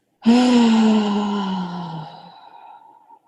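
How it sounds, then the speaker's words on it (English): A single deep breath during a relaxation breathing exercise, heard as a close, loud, voiced exhale like a sigh that slowly fades over about three seconds. "breathing in through your nose, and we're going to have a nice audible exhale"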